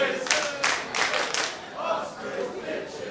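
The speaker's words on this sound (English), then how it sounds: "The crowd letting them know exactly what they think of them." Wrestling crowd at a British wrestling show jeering the heel team, a loud swelling mass of boos, shouts and scattered claps with noisy bursts rising and falling.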